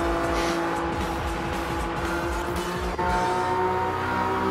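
Race cars in the Gran Turismo 7 video game, steady engine drone with shifting pitch as cars run together, loud and continuous with a brief gear change.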